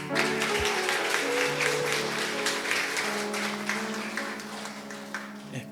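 An audience claps steadily for members of a band at a book concert marking a community welfare center's 25th anniversary. The applause is dense and sustained, with a tonal hum running underneath it.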